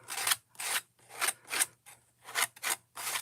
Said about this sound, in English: Sorry if you don't like the scraping noise.